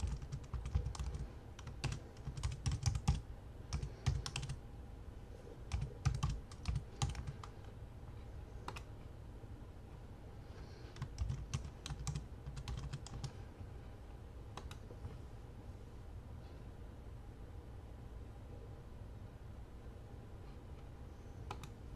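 Login credentials for a district account typed on a computer keyboard: quiet, close bursts of rapid key clicks with short pauses, busiest in the first few seconds and then sparser and softer.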